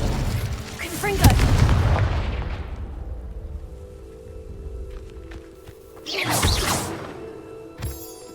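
Confringo explosive spell blasts in the video game Hogwarts Legacy, a heavy booming impact with a rumbling tail early on and a second whooshing blast later, followed by a short sharp hit near the end.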